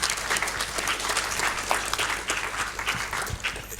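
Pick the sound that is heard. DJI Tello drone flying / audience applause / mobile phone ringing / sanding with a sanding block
audience applause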